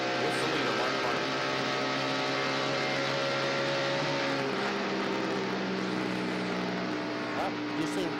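Onboard a stock car racing at about 8,000 RPM during the 1993 Motorcraft Quality Parts 500 lap, a sustained loud engine whine holds steady tones that shift pitch partway through, with a commentator talking over it.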